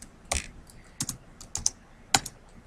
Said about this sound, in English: I'm just going to start to type today's date